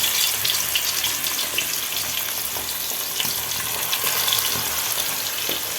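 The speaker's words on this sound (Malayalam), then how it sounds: "അതിനകത്ത് കുറച്ച് കറിവേപ്പില ഊരിയിട്ട് കുറച്ച് ചിക്കനും കൂടി അങ്ങ് ഇട്ട് കൊടുക്കാം" Chicken and curry leaves frying in hot oil, producing a broad, even, watery-sounding sizzle at moderate loudness with no voices.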